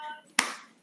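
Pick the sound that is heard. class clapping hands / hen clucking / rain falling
class clapping hands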